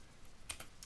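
A handful of quick, quiet keystrokes on a computer keyboard as commands are typed into a Linux Ubuntu terminal, with a slightly firmer tap in the middle and no voices.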